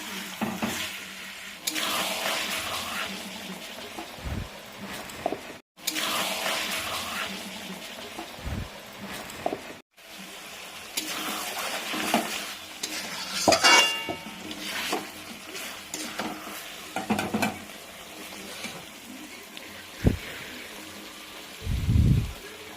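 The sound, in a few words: kakra pitha (stuffed rice cakes) frying in oil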